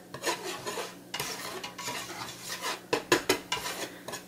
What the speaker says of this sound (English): I just like to make sure my whisk is whisking it all really nicely.